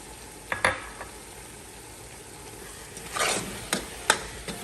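Powdered shrimp (njanga) stirred into a frying waterleaf dish: a quiet sizzle underneath a few distinct scrapes and clinks of a spoon against the pot, close and sparse, with no talk.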